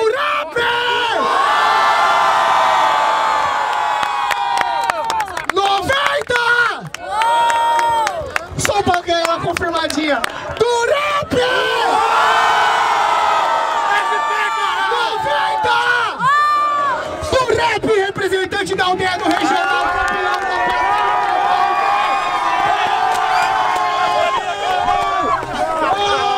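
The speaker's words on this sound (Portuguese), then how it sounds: "Barulho para as rimas do Durap" A crowd at a rap battle final roars, cheers and shouts loudly and continuously, with whoops and chants rising and falling, and voices calling out over the noise.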